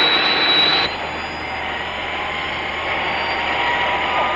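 A jet aircraft flies nearby, a loud, steady broadband roar with a high whine that drops away after the first second, continuing as a constant rush throughout, alone with no voices.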